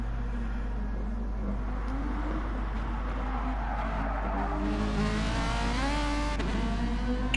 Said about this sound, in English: Fantastic noise that the Ferrari makes